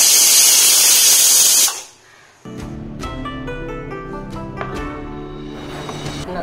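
A pressure cooker whistle lets out a loud, steady blast of hissing steam that cuts off abruptly, followed by quiet with music playing.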